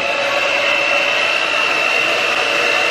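A Black Diamond Professional hair dryer runs steadily on a warm, low heat setting while drying hair, giving a continuous close whooshing hum with a high motor whine and no talking.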